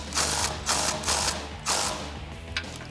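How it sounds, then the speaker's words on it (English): Ratchet wrench with an 11mm socket tightening a steering rack bolt on a 2014-2018 Chevrolet Silverado 1500, four bursts of rapid clicking in an uneven rhythm, close and fairly loud. "we're gonna take an 11mm and tighten that up"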